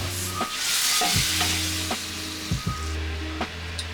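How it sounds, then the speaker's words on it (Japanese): Water sizzles as it deglazes a hot pot after browning beef for boeuf bourguignon, while a utensil scrapes and stirs the bottom in repeated strokes, close up, with no talking. "鍋は洗わないで水を入れてですね、この鍋についた旨味をですね、 こうそぎ落とすような感じで"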